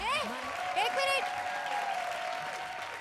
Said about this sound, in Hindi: स्वागत कीजिए जोरदार तालियों मारकर